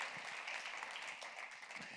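Applause from a church congregation during a women's vigil service, a steady dense patter of many hands clapping for the full two seconds, moderately loud and without any voice.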